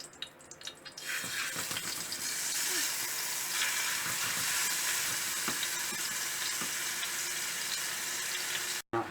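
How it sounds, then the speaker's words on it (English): Marinated beef pieces frying in a batch in hot oil over high heat, a loud continuous sizzle that bursts in after a brief quiet start and holds steady up close, with faint knocks underneath. "So we will fry these in batches. So once the oil is hot, then I'll put them in"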